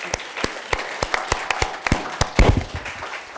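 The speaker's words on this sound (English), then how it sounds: "let's give them a round of applause" Audience applause for a panel of speakers at an economics conference session, made of distinct sharp claps spaced apart rather than dense applause, fairly close, with a brief louder burst near the end.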